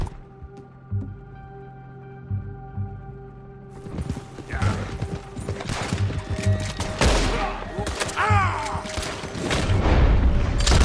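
Gunfire in the Red Dead Redemption 2 video game, with booming shots and heavy thuds building over a low musical drone and growing louder and denser toward the end.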